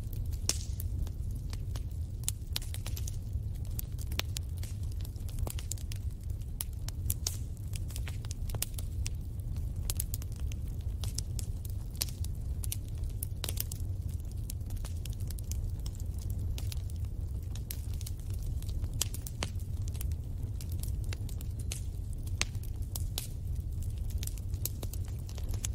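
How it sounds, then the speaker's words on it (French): A fire crackles steadily nearby, its dense sharp pops and snaps scattered over a low, constant rumble for the whole stretch, with no voices. "laissez-vous bercer par le doux ronronnement du feu qui crépite"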